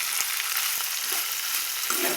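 Vegetables with green chili fry in a hot pan for a poppy-seed sabzi, giving a continuous close sizzle with a few small pops and stirring scrapes and no voices.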